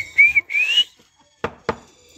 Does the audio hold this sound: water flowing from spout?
no